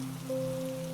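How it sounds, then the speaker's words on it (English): Storm rain drums steadily on greenhouse glass overhead, a dense even patter with a low, sustained tonal hum running beneath it throughout. "A brief thickening, a fuller drumming on the glass above"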